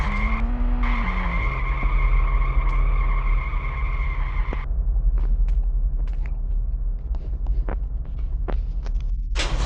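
Car engine hum with tire skidding in a driving sequence from the Ice Scream 1 video game, a steady loud drone that shifts partway through, followed by scattered clicks and knocks.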